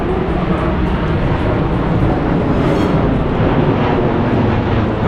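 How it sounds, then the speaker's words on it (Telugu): An airplane passes overhead near the Tram 28 terminus in Lisbon. Its loud, steady roar fills the whole stretch without any break. "విమానం వెళ్తుంది."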